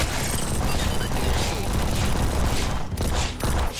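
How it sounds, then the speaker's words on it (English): Sustained machine gun fire in the looter shooter video game Solomon Snow, a dense continuous burst of loud rapid shots with short gaps near the end. "oh, the machine gun feels so fun."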